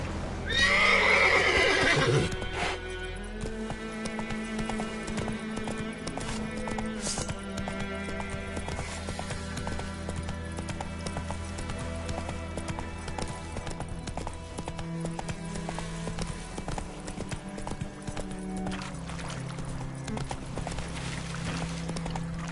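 A horse's hooves clip-clop in a quick rhythm in The Witcher 3 on PS5, with a loud neigh near the start, heard over steady game music throughout.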